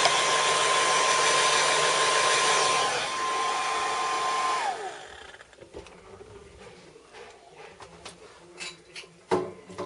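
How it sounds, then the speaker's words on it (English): A hair dryer on a low setting blows loud and steady for several seconds, drying rubbing alcohol on a model terrain piece, then cuts off, leaving quiet handling clicks and small knocks. "or take your hair dryer on a low setting"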